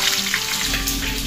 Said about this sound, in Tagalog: Tapos habang tayo nag-prito